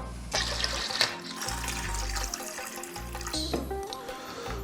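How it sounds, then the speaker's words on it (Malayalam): Water pours steadily and continuously, splashing into a container, with a low droning hum running underneath. "നേരത്തെ പോലെ വീണ്ടും വെള്ളം ഒഴിച്ചു കൊടുക്കണം കേട്ടോ"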